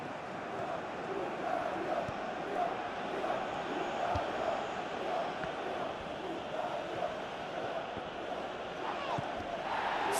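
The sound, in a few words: football stadium crowd reacting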